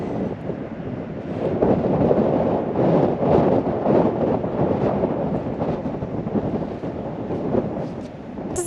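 Strong wind at a highway lookout roars and buffets the microphone in a continuous low rumble, swelling and easing in gusts without pause.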